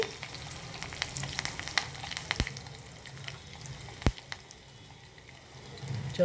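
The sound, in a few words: curry leaves sizzling in tempering oil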